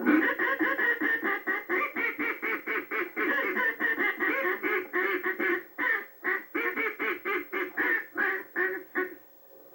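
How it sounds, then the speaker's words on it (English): A duck call is blown in a fast, excited series of rapid quacks, loud and close, in bursts with brief pauses and no talking. "a lot of times we use what we call excited call or demanding call."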